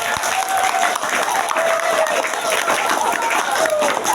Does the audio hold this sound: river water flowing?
no